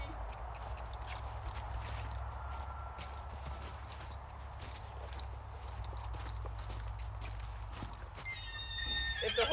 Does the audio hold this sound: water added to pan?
no